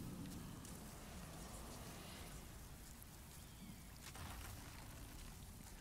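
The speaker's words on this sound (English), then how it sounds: "just leave the game on, like, on the screen and sleep through the rain" Steady rain from the Demon's Souls Remake video game, a soft, even, continuous patter with a faint wash of water, heard alone without talk.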